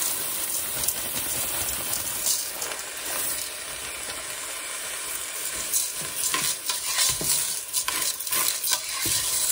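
A pound of green split peas poured into a hot pot for split pea soup with ham bone, then stirred through, producing a close rustling, scraping sizzle with bursts of steam hiss and utensil knocks, no talking.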